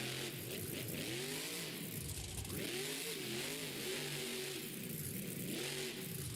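A monster truck engine revs hard through a wheelie at a Monster Jam stadium show in Las Vegas, its throaty roar rising and falling in repeated surges, loud and continuous with no talk over it.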